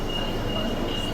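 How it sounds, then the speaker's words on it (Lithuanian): Metro train ride in Rome, a steady, loud rumble of the carriage in motion with no pause. "Sekanti dalis kelionės metro"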